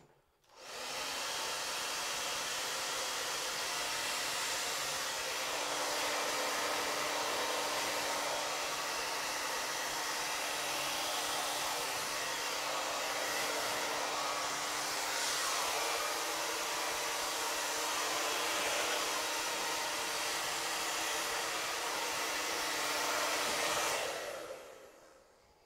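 A hair dryer blows steadily on hair for about twenty-five seconds, a loud continuous whooshing roar with a faint motor hum, starting and stopping abruptly, with no talking.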